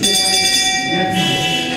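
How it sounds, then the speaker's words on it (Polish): A bell rings continuously with a bright, sustained metallic tone over a mechanical drive setup, loud and steady throughout with a slight shift in timbre partway. "tutaj mamy taki dzwonek"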